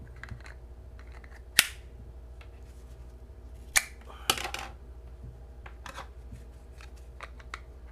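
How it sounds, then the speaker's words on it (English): Kydex and Boltaron trigger guard sheaths snapping shut, a few sharp isolated clicks spaced seconds apart over a quiet background, with lighter handling taps between them. "a very audible snap as compared to a dull thud sound"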